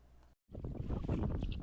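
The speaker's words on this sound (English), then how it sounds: "It's really windy and cold, and there's waves." Wind buffets the microphone by open water with waves, a brief cut-out giving way to a rough, loud rush of gusts and churning surf close by.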